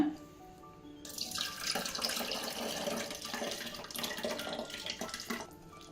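After a short pause, tamarind water pours steadily into a jar, splashing and gurgling close by before trailing off.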